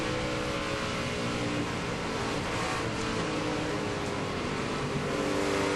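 Onboard a NASCAR NEXTEL Cup race car at Michigan, the engine roars loud and continuous at high revs with a dense, steady mechanical drone and no talk.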